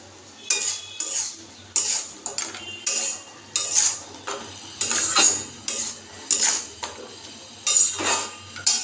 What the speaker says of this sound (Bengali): এবার ঢাকনাটা খুলবো। এবার এর মধ্যে দিয়ে দেবো ভেজে রাখা বড়িগুলো।